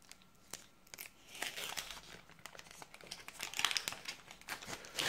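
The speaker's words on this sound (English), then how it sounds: "Tear the packet, not the sticker." A Panini sticker packet being torn open, with crinkling foil-like wrapper noise and sharp tearing bursts, close and fairly quiet, no talking.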